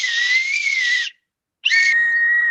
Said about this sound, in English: She starts to blow the whistle with all her strength into her body, and its sound slaps all across the still water